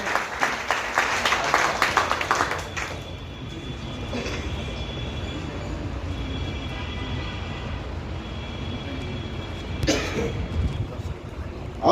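Crowd applause rings out at a political gathering in welcome of leader Tej Pratap Yadav, loudest in a dense burst at the start before thinning into a steadier murmur, with a brief swell near the end.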